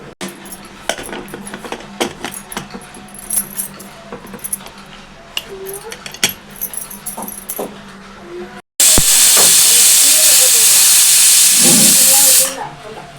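Light clinks and kitchen clatter while dal curry cooks, then a pressure cooker whistle blasts a loud, steady hiss of releasing steam for about four seconds before cutting off.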